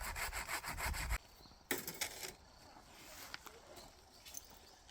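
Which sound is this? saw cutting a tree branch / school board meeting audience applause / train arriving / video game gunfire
saw cutting a tree branch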